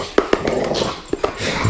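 A dog lets out a few short, close yips and barks with a gap between them, over a low background murmur.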